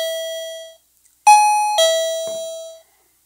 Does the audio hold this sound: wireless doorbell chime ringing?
yes